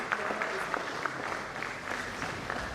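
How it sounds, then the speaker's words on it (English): Conference audience applauding the Vice Chancellor as he steps forward at a university management sciences conference; steady, fairly faint applause from a hall crowd, continuous through the clip with a light murmur of voices underneath. "Please sustain the applause till he gets there."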